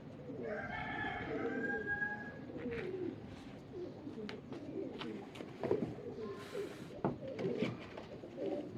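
Several Rampuri Teddy pigeons coo in a mixed flock while birds call and a rooster-like crow sounds, over background chatter; no one speaks clearly in the foreground.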